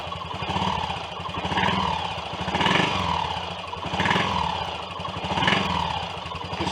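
A Triumph Tiger Cub Sports replica motorcycle engine runs close by and is revved, a throbbing single-cylinder putter rising and falling in several repeated swells.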